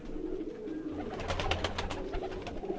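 Pigeons cooing close by, a golden female with a Sialkoti male, giving soft low repeated coos over steady rustling and faint chirps from other birds.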